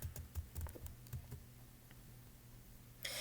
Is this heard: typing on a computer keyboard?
yes